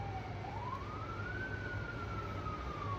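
A wailing emergency vehicle siren sweeps slowly up and then holds and eases down in pitch, steady and fairly loud over low traffic rumble, with no talking.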